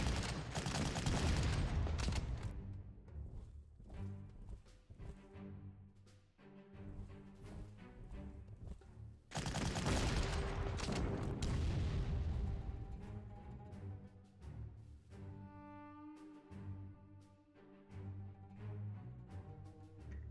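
Artillery fire in the WWII strategy game Panzer Corps: heavy booming salvos and rolling bursts of gunfire, loud and close, with two big blasts and a quieter stretch of lighter shots between them.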